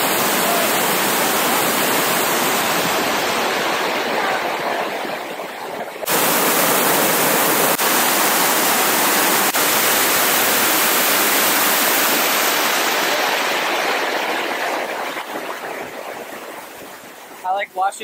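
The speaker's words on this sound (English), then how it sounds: "We found a super cool trail by a waterfall." A waterfall beside a hiking trail at Yellowstone roars as a steady, loud broadband rush that carries on without a break, dipping briefly near the start and fading slightly toward the end.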